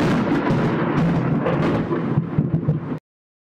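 A loud, rolling rumble of thunder from a lightning storm roars continuously, then cuts off abruptly near the end, with no voices.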